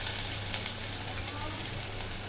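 Steady hissing sizzle of garlic frying in a hot pan, continuous and close, with faint crackles throughout.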